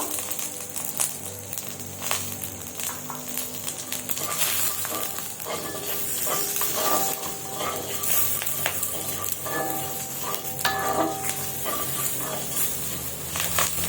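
Spices sizzle and spit in hot oil in a pan for South Indian style cooking, a loud, steady crackle with sharp pops of splatter and stirring scrapes, no talking.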